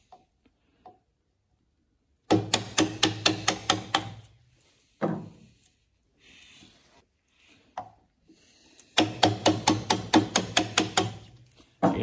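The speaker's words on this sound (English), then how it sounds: "I'm going to use the mallet at the back of it like so, to give it a tap." A wooden mallet taps the back of a chisel resting on a vise to remove waste in a woodwork cup holder project, sharp rapid clicking strikes in two close bursts with a few single knocks between, no talk.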